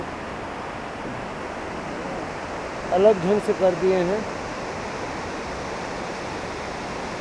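A mountain stream rushes into the Kalp Ganga river in Uttarakhand, on the damaged road to Kalpeshwar temple after the 2013 disaster, a loud, steady, close roar of flowing water that a voice briefly speaks over midway.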